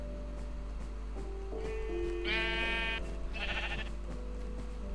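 Sheep bleat in a video game, two clear bleats in quick succession over a steady low background hum.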